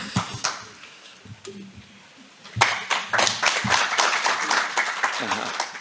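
Applause at a Korean community commemoration event for the first Separated Families Day, starting as scattered claps, then swelling into a fuller round from the audience as a guest speaker is welcomed to the stage.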